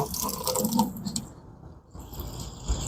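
Water splashes and drips steadily from a bucket onto a window screen being cleaned, close and moderately loud, easing off briefly before resuming.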